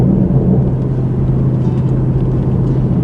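A catless Ford 5.0 with a Roush axle-back exhaust cruises steadily, giving a loud, constant low engine drone and road rumble heard from inside the car with no talking.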